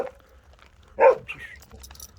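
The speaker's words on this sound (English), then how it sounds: "Look at all them dogs." Dogs outdoors at a small rural homestead, one short loud bark near the middle followed by a fainter yip, otherwise quiet.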